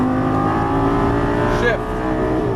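A Lamborghini Gallardo LP550-2 accelerates at full throttle on a track, its engine roaring loud and continuous with a pitch that climbs steadily, while a voice talks over it.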